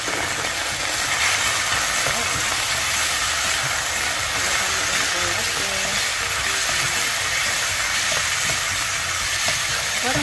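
Octopus sizzling in a hot pan after browning, a loud, steady hiss of frying that carries evenly for about ten seconds without a break.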